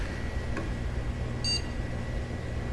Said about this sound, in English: Speaker worked, I heard it beep.